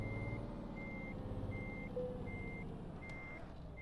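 A truck backs up with a trailer in Euro Truck Simulator 2, its reversing alarm beeping in a steady, evenly spaced rhythm over a low, continuous diesel engine rumble.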